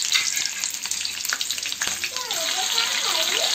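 Whole green chilies fry in hot oil for dahi mirchi bhaje, a loud continuous sizzle with bubbling crackle and occasional stirring scrapes, steady from start to finish.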